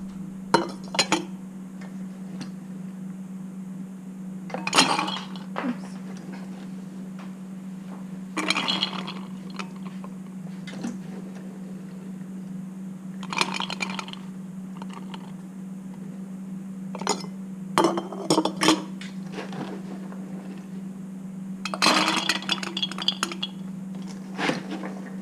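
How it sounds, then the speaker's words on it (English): Cumin seeds, peppercorns and salt are tipped into a row of glass canning jars, giving bursts of clinks and rattling taps spread across a steady low hum, close by with no speech. "So I'm going to throw a teaspoon of the cumin seeds in each of the jars"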